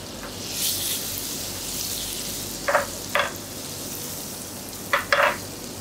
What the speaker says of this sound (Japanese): サラダ油を少し引き、バターを入れて焦がさないように溶かしてください。